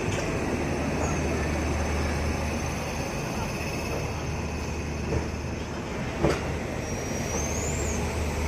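The Swaraj Express stands at an Indian railway station, with a steady low rumble of the stationary train, faint squeals and a few sharp clanks over the platform's background hum.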